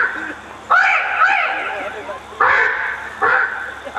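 A comedian performing live at Ramghat imitates a crow with his voice, giving three loud, nasal, honking caws in quick bursts with short pauses between them.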